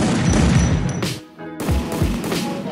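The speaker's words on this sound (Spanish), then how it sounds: "Cuando disparas una bala, tu personaje levanta el arma y se escucha el disparo." Loud bursts of Free Fire video game gunfire in quick succession, with a brief gap of near silence before the shooting resumes.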